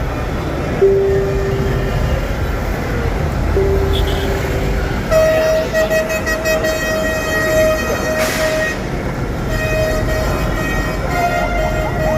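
A Dhaka metro rail train at a station, with a loud steady rumble, repeated sustained electronic tones and chimes, and a brief burst of hiss partway through.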